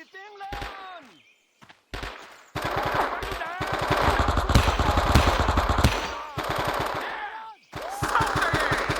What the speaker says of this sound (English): Open fire! Come on, put out rounds!